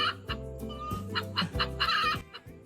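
A parrot imitates a chicken, giving a run of clucking calls in short rhythmic bursts, close and fairly loud, with a brief pause midway.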